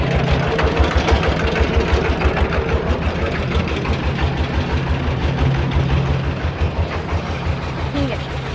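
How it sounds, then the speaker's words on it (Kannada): A small tractor engine runs nearby in an incense-stick-making village in Vietnam, a loud, steady low chugging with rapid regular pulses throughout, while voices talk over it. "ಚಿಕ್ಕ ಟ್ರ್ಯಾಕ್ಟರ್ ಎಷ್ಟು ಚೆನ್ನಾಗಿದೆ ಅಲ್ಲ"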